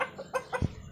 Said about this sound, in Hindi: ये तो बड़ा खतरनाक डेंजर मुर्गा।